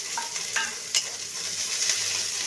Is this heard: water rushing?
no